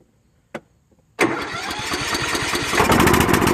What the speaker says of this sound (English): So let's get it started up now, see if it's gonna run